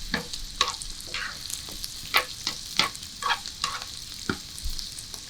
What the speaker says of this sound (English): So our onions are caramelizing here nicely.